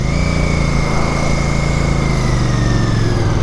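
A Royal Enfield Interceptor Bear 650 motorcycle engine runs close and loud, holding a steady throbbing drone whose pitch shifts slightly as the bike starts to pull away, with no voices.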